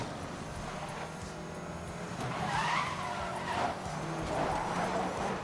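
Tires skidding and squealing as race cars slide around corners in Need For Speed Most Wanted, a steady engine roar with recurring screeches at moderate distance.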